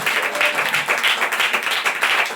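A group of people claps hands together at a home Christmas worship gathering, producing steady, rhythmic, moderately loud applause throughout.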